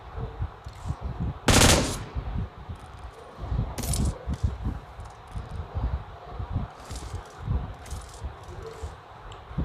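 Gunfire crackles in a squad-based shooter video game as rapid, scattered bursts of shots. One loud, sharp burst comes early, followed by repeated lighter volleys and rattles.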